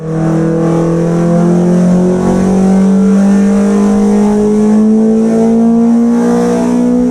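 A midget speedway car engine, essentially half a V8, revs loudly and steadily, its pitch climbing slowly over several seconds with a rough, buzzy tone and no voices.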